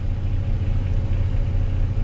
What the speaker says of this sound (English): so I've just started the engines, both of them just over tick over